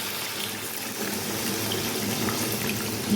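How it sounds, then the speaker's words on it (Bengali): Water poured into a pan of rui fish curry with radish, a steady pouring and splashing rush that holds at an even level throughout, close by and alone. "তো আমি এখন পরিমাণ মতন জল দিয়ে দেবো"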